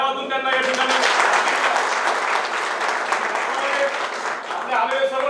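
An audience at a municipal president's swearing-in ceremony bursts into sustained applause, dense clapping from a crowd filling the room for several seconds before tapering, with a voice briefly heard at the start and end.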